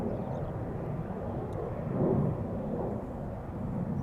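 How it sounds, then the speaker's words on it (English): A CRJ regional jet at Schiphol Airport gives off a steady, moderately distant engine roar that swells slightly midway, with no voices. "it's the first CRJ of the day"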